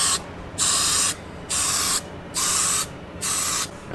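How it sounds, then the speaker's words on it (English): Matte black aerosol spray paint going onto car parts of a KE70 street car build, four evenly spaced hissing bursts about half a second each with short pauses between, close and clear. "let's start spraying, I guess. I'm gonna go with the matte black"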